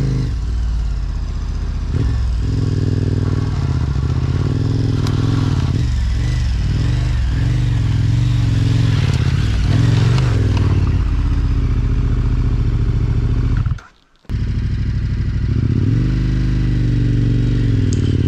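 A dirt bike engine drones loudly and steadily on a steep, rocky trail, revving up and down as it clatters over rough ground, with a brief cut-out near the end.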